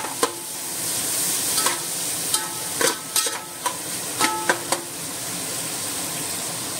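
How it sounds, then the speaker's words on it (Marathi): Chopped onions fry in a pan for a Goan-style prawn chowmein, a steady sizzle broken by sharp clacks of a spoon stirring and scraping, close and clear. "कांदो ऍड करता हितून. ओके आनी हांव भाजून घेतलो बरो."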